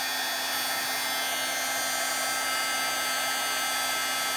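Handheld heat tool blowing hot air over a card to dry spritzed water and melt embossing powder, a loud, steady roaring whoosh with a faint tonal hum, continuous and close, without talking.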